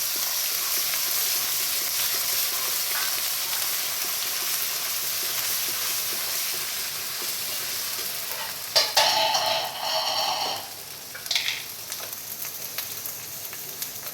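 Onion sizzles steadily in hot oil with garlic and ginger for a home-cooked vegetable dish, a constant crackling fry, then a few sharp scraping stirs near the end.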